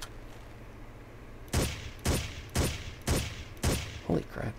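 Video game gunfire in Ghost Recon: after a quiet stretch, five or six heavy shots ring out at roughly half-second intervals, each a sharp loud crack with a short fading tail.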